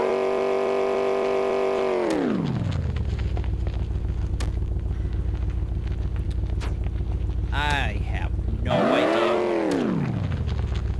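A car in the video game Enviro-Bear 2000 produces a droning engine tone that drops sharply in pitch and later swings back up and down, played continuously under a man's chatter.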